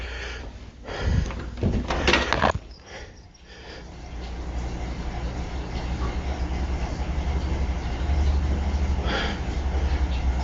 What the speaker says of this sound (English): find the basement door aggressively shaking